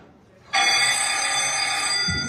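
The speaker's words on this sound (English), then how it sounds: "Well, what do you know? The phone." An old-fashioned telephone bell rings as a radio drama sound effect, starting abruptly and sounding as one loud, continuous metallic ring close by.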